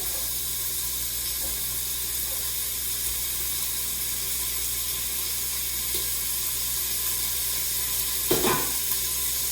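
Food searing in a Quick Cooker one-pot electric cooker on its sear setting, a steady low sizzle and hiss running throughout with a brief louder crackle near the end.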